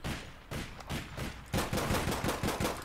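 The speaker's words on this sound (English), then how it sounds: "He's sniping." Sniper rifle gunfire in the video game APB Reloaded: a rapid series of sharp gunshots, spaced at first and then coming faster and louder in the second half, with no talk.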